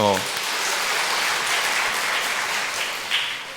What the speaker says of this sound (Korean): 박수 한번 또